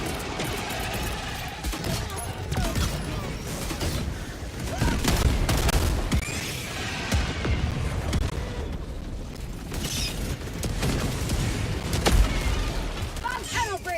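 Dense rapid gunfire and booming explosions from a Helldivers 2 battle against bugs, sentry turret fire rattling in continuous bursts with heavy blasts mixed in, loud and chaotic throughout.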